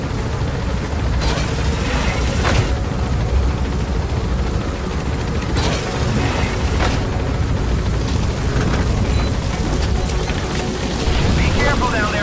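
Video game helicopter with a steady loud rotor and engine drone running throughout, punctuated by a few sharp bangs, while a person talks over it.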